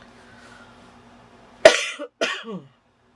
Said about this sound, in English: And the coughing begins.